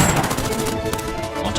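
Rapid gunfire crackles through a war drama battle scene, with dense bursts of machine-gun and rifle shots running steadily for under two seconds.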